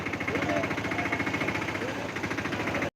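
A tractor engine runs steadily while the tractor is reversed, giving a close, continuous chugging throb with a low pulsing rumble throughout.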